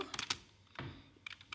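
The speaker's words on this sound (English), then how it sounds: "what I'm gonna do is actually type Heroku" A few quick bursts of keystrokes on a computer keyboard, close and crisp, split by short pauses.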